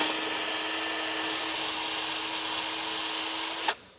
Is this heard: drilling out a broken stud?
yes